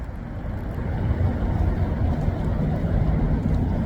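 A Suzuki TS400 Apache motorcycle stuck in first gear is ridden around with the clutch held, giving a loud, steady, close engine drone with wind buffeting throughout and no talking.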